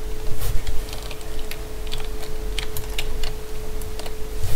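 Rapid, uneven key clicks from a computer keyboard being typed on, with a steady low electrical hum underneath while playing Roblox Dino Simulator.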